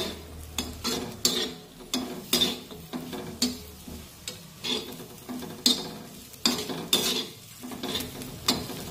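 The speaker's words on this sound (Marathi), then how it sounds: "आता यामध्ये 10 ते 12 लसूण पाकळ्या आणि 1 इंचभर अद्रक टाकूया आणि 1 मिनिट हे सुद्धा छानपैकी परतून घेऊया।" Garlic cloves and an inch of ginger sautéing in a pan for a chicken curry base, heard as repeated sharp scraping stirs and clinks of a utensil against the pan over a light sizzle, close and rhythmic.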